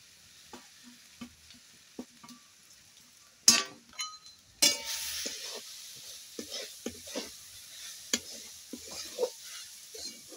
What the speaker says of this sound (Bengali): তো এটাকে আমি ভালো করে নেড়ে চেড়ে নারকেলের একটা পুর বানিয়ে নেব।